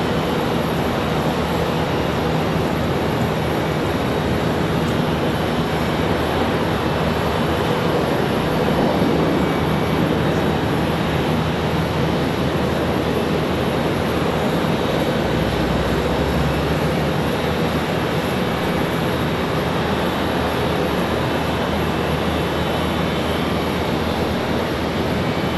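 A Contour Airlines plane departing Charlotte Douglas International Airport for Muscle Shoals, its engines giving a continuous, moderately loud roar that rumbles steadily throughout with a low swell midway.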